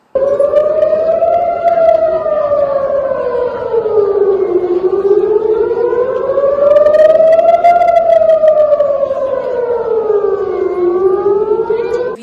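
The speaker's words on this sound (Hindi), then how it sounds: "आप अपनी स्क्रीन पर ये वीडियो देखिए जिसमें आप सायरन की आवाज सुनेंगे" Loud wailing air raid siren in Israel during a Hamas missile attack, rising and falling in long, slow cycles, sustained without a break and dominating the scene.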